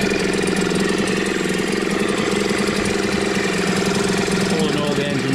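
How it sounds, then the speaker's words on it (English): A Yamaha Malta 3hp (6L5) outboard engine, freshly serviced with a new water pump, runs loud and steady close by, a continuous buzzing drone with a rapid mechanical rattle throughout. "the engine's running absolutely fine there now"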